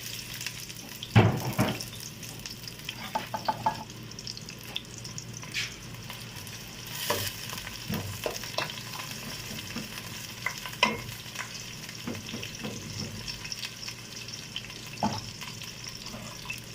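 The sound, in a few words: onion frying in oil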